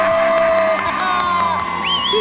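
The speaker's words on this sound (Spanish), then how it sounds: "Un fuerte aplauso para Pichas y Cachas." A television studio audience cheers and whoops loudly, with a dense mix of shouts and applause close to the microphone.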